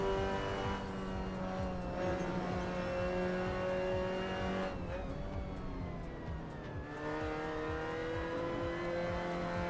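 A Mazda MX-5 is driven in the Assetto Corsa racing game, its engine note climbing and falling through gear changes with brief lifts, a continuous moderately loud buzz with no talking.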